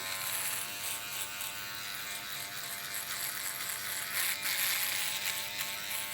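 A Stylecraft Ace 2.0 electric shaver hums steadily and close throughout the shave, a continuous high buzzing whir with slight rises as it presses against freshly trimmed stubble.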